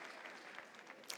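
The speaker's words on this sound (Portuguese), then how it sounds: "Este foi um aplauso para Nossa Senhora" Audience applause at a religious gathering honouring Our Lady: steady, dense clapping from a crowd that holds an even level for about a second without voices.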